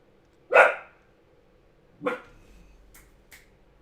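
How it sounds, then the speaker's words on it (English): A dog barks indoors, with two sharp separate barks about a second and a half apart followed by a softer, shorter yap. Quiet background, no talking. "Dog's barking."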